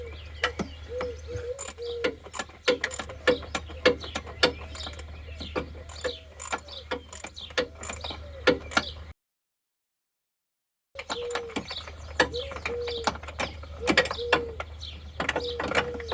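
A ratchet wrench clicks rapidly in short bursts on a bolt of a Mazda MX-5 during a coolant leak repair, close and crisp, with a brief silent gap midway.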